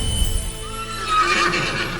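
A white horse whinnies as a sound effect: a single rising and falling neigh in the middle of a steady background hum, fairly loud and close.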